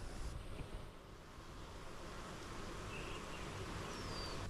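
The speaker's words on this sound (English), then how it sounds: "Let's check on the bees. I bet you they are working today." Honeybees, including a caught swarm housed in a stacked hive box, hum in a steady, dense drone around the hive in a summer garden, with wind and a faint whine overhead and no talk.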